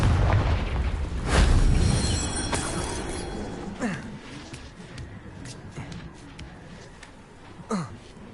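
A Confringo fire spell blasts in Hogwarts Legacy, a loud booming burst with rumbling low end, followed by fainter pops and crackles and a later smaller blast.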